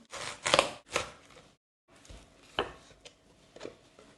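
A knife cuts cabbage leaves on a wooden board in a kitchen, giving a few close, crisp chopping strokes with short pauses between them.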